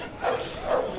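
A dog barks twice beside a padel court during a women's final in Cabriès, the short yaps moderately close and carried over steady crowd and court ambience.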